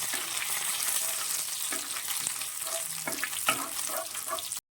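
Onions and spices fry in hot oil for a pumpkin and cowpea erissery curry, a continuous close sizzle with occasional stirring scrapes and soft pops, and no talking.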